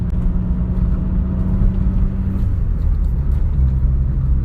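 A VW Passat B5 SDI diesel pulls in third gear, with a loud, steady, close engine rumble and drone that stays flat and never clearly builds.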